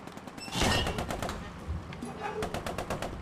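Rapid gunfire bursts in a tank battle in the game Post Scriptum, with a Cromwell crew firing in quick cracking volleys, fairly close and repeating through the clip alongside low rumble.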